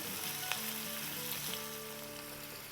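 Onions sizzling steadily in a very hot pan with water added for a pulao, a dense continuous hiss with a faint stir tap, close and without talk.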